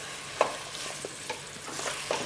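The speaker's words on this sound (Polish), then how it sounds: "Bardzo fajnie się tutaj to już smaży." Filling for Hungarian-style potato pancakes sizzling in a frying pan, with a steady soft crackle of frying broken by a few sharp scrapes and clinks of stirring, close by and without talk.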